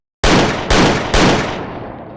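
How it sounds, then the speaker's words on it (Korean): Three loud gunshots fired in quick succession in a dark street alley, each sharp crack sharply onset and trailing into a long echoing decay, with no voices present. "세 발의 총성이 울리고 총알은 가로등 3개에 정확히 막힙니다."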